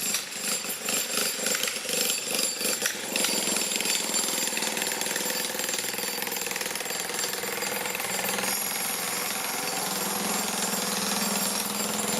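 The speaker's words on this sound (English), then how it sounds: "There's some jackhammering." Jackhammer pounding away at slab work on a street construction site in Toronto's Kingsway neighbourhood, a loud, steady rapid hammering that runs the full length with no talk over it, joined by a low engine drone toward the end.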